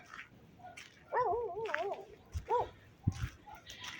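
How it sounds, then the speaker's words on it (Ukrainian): Neighbours' dogs bark and yelp at a distance, with a wavering whine in the middle, over faint rustling and footsteps in a quiet outdoor setting at night. "І впереді собачки гавкають сусідські."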